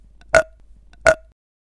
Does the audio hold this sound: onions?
no